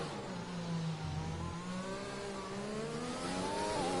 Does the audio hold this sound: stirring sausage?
no